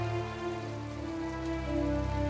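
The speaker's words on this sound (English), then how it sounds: "It's raining." Steady rainfall in the video game My Time at Portia, a soft, continuous patter heard faintly alone beneath sustained tonal game music.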